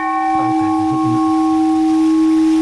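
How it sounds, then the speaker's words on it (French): A temple bell at the White Temple in Chiang Rai, Thailand, rings with a strong, sustained tone that hums steadily throughout, its rich overtones lingering without fading. "Au moins, on a entendu le son d'une des cloches."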